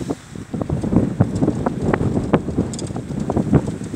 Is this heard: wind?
yes